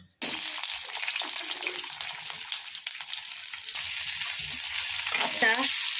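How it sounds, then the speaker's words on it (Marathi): Onion fries in a spoonful of hot oil in a pan for Kolhapuri mutton rassa, bursting into a loud steady sizzle after a brief silent start, with stirring scrapes near the end. "आता आपण कांदा भाजून घेऊया"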